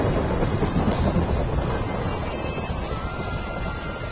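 Thunder rumbles steadily through a storm in a Minecraft survival game, a loud, continuous low roar with rain-like hiss and no voices over it.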